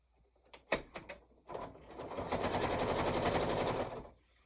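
A sewing machine stitching across quilt-as-you-go pieces to join sashings, a few sharp clicks and quick bursts first, then a steady buzzing run of stitching for about two seconds before it stops, heard alone at close range.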